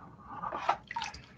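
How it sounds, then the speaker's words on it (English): Water poured off a batch of black sand being washed of dark brown mud, heard as faint, brief splashes and trickles in a quiet setting with no talk. "And just pour that batch of it off,"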